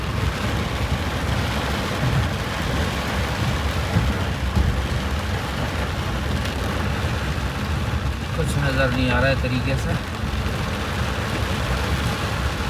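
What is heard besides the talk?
sudden rain during stormy weather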